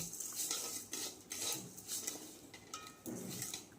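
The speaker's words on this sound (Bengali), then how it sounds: "মুগ ডালগুলোকে ভালো করে একটু ভেজে নেব" Moong dal dry-frying in a wok over low to medium flame, stirred with a utensil that scrapes and clinks against the metal in quick uneven strokes, close and fairly quiet.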